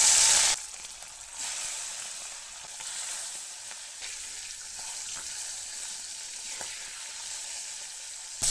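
Tengra fish sizzle and crackle as they hit hot oil, a loud, steady broadband frying hiss that runs without a break from start to finish.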